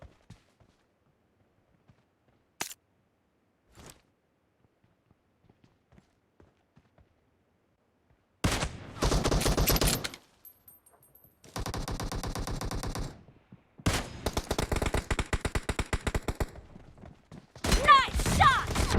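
Gunfire in a video game team match, with a few isolated sharp shots early on, then long dense bursts of rapid repeated fire in several loud blocks separated by short pauses.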